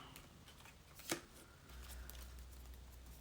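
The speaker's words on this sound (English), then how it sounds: "Let's shuffle you out a card." A quiet ruffle of tarot cards being shuffled, with one sharp snap in the middle, close and soft.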